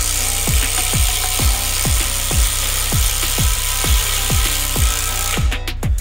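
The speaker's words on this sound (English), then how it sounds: "identical DCF 850s on speed 3 and a 1/4 inch structural lag fastener." Two identical DeWalt DCF850 impact drivers on speed 3 drive 1/4 inch structural lag fasteners, a loud steady motor whine with rapid regular hammering pulses that stops abruptly near the end.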